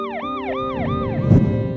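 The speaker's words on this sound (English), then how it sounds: "hundreds of protesters stepped aside to let an ambulance through" A wailing ambulance siren sweeps up and down repeatedly as the ambulance passes through a crowd of protesters, over low traffic rumble, loud and fairly close.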